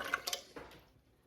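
Canned peaches pour into a glass baking pan for a peach cobbler, giving a short wet slosh with a few faint clinks and squishy drips that taper off within about a second.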